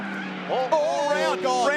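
Race car spinning around after contact with another car during a SpeedSeries round at Phillip Island, tyres squealing and engine notes swooping under continuous commentary.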